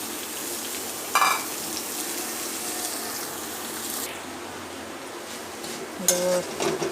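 Mutton masala frying in hot oil, a steady close sizzle throughout with a couple of brief clinks of a spoon or utensil against the pan.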